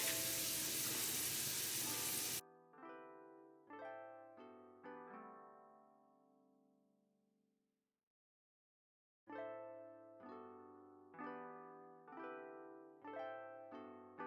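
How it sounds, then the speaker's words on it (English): Sausage fries in bacon grease alongside bacon, a loud, dense sizzle that lasts about two seconds and then cuts off abruptly into plucked, melodic music. "I'm going to fry it in the bacon grease once the bacon is almost done."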